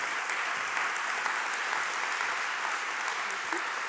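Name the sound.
audience applauding a speaker's welcome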